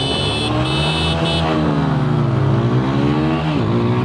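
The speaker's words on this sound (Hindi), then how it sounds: "चलो सो इस बार आ चुका हूँ मैं RTR पे। सिंगल टच स्टार्ट के साथ में आती है बाइक" A TVS Apache RTR 160 4V motorcycle engine running close by, a steady loud idle with a brief blip of revs near the middle and a short dip later, with no talk.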